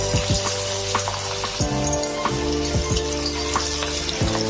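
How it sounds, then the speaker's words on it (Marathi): Shrimp frying in a pan on high heat crackles and sizzles steadily up close, over a droning tonal hum, with no talking. "ह्या कोळंब्या आपल्याला एकदम हाय हीट वरती फ्राय करायच्या आहेत"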